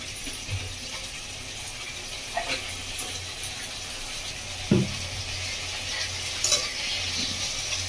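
Spiced masala with yogurt sizzles and is stirred in a pan over a medium gas flame for a Bengali prawn malai curry, a soft steady frying hiss punctuated by a few spoon clinks and scrapes.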